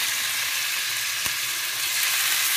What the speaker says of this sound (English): this is what I like to hear, the sear